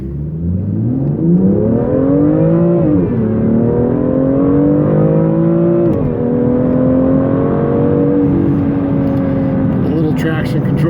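BMW M2 fitted with a K&N air filter pulls hard through the gears, engine and turbo rising in pitch, dropping at each shift, then climbing again, heard loud from inside the car with a voice talking over it.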